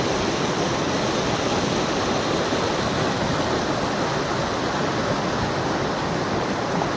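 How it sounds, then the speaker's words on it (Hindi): Fast, icy snowmelt river rushing along the Aharbal waterfall trail toward Kongwattan and Kousarnag, a loud, unbroken roar of churning water that fills the whole clip with no voices. "यहाँ पर पानी का बहाव बहुत तेज़ है जिसकी वजह से ये बहुत तेज़ आवाज़ करता है"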